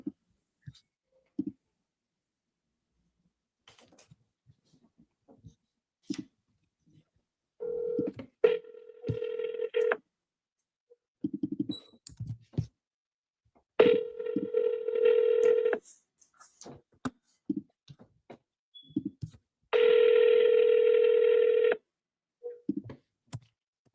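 Touch-tone dialing beeps and repeated ringback tones on an outgoing phone call to a seller, with clicks between; several sustained ring bursts stand out clearly with no talk over them.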